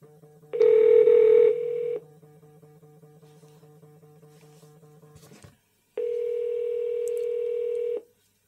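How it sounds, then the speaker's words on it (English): Outgoing call placed through a Google Home Mini: a loud tone burst, then a long quieter steady ringback hum, a brief gap, and a second loud tone lasting about two seconds, all electronic with no voices. "Okay, Google. Call techsteve"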